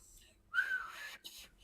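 A person whistles one short, rising note close by, followed by a brief breathy second attempt in a quiet room.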